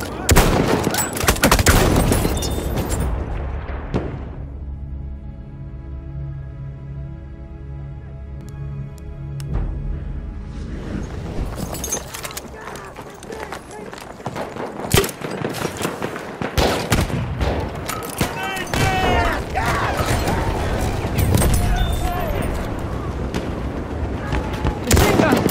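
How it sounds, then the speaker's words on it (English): Rapid bursts of machine gun fire crackle through a video game battle, dense and loud, mixed with booms and impacts after a stretch of sustained tonal sound, while voices shout over the action. "Machine gun! Watch it, boys!"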